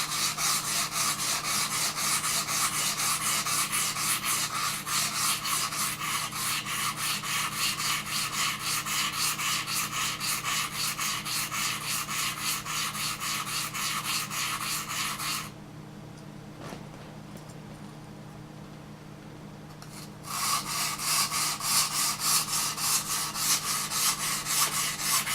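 A knife blade is rubbed back and forth on a 150-grit Nubatama sharpening stone in a steady, rapid rasping rhythm, close and continuous, with a short quieter pause partway through before the strokes resume.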